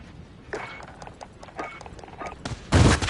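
Gunfire from a gun with a tactical attachment in Call of Duty, heard as a scattered run of short, sharp shots that ends in a louder, denser burst.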